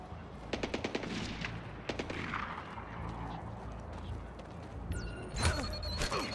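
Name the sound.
gunfire in video game Splinter Cell Blacklist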